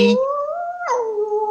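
A lone dog gives a drawn-out howl that rises, drops sharply, then holds a wavering tone, loud and near with no talk over it.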